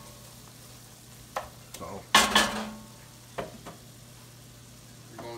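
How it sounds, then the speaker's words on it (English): Flour cooks and sizzles in a pan for gravy, a faint steady fry with a few scrapes and clinks of a utensil stirring it; a voice says a word briefly. "we're going to let this flour cook for a couple of minutes"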